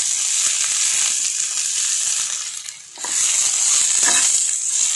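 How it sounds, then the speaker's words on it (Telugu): Sour gongura leaves fried and tossed in a pan, a loud steady sizzle with crisp crackling and a brief dip near the middle as the leaves are turned, close and with no talk. "ఫ్రై చేసుకోండి"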